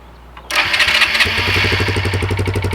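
A motorcycle engine, a Spitfire, cranks, catches loudly after a brief click, and settles into a close, steady throbbing idle.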